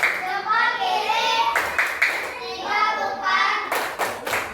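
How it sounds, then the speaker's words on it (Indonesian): A classroom group of children performs a tepuk gujok clapping chant, chanting together in sung phrases with bursts of rhythmic hand claps, close and loud. "Kita kasih dulu tepuk gujok untuk kelompoknya, kelompok 1 ya."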